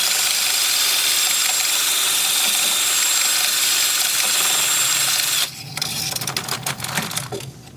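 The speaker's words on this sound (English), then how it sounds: "spin the piece up, spin up my drill." A drill whines at high speed with a steady, loud hissing grind, then its pitch drops and stutters into uneven scraping as it sands the inside of a spinning wood-turned piece.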